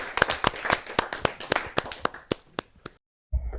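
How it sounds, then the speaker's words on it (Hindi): Audience applause welcoming a poet at a Hindi kavi sammelan, a crowd of brisk claps that thins to scattered single claps before silence, then a brief low thump at the end. "जोरदार ताली के साथ उनका स्वागत।"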